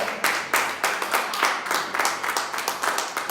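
A church congregation claps in praise of the Lord, many hands beating in a quick, fairly steady rhythm, close and lively with no voices.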